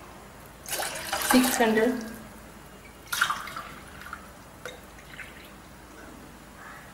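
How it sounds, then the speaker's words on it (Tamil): Water for mango frooti syrup is poured into a measuring cup or pot, 750 ml in all: a short splashing pour lasting about a second, then a few fainter drips and trickles, with a voice speaking briefly. "750 ml நம்ம தண்ணி ஊற்றிருக்கோம்"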